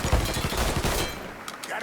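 Rapid gunfire in the crime video game Mafia III, a burst of repeated shots and booms that thins out partway through, with a few sharp cracks near the end.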